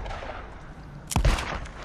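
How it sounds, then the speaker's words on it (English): Gunfire in the zombie survival game Days Gone, a sharp burst of a few close, loud shots cracking out over a low ambient rumble after a quiet stretch. "I'll just shoot these guys down"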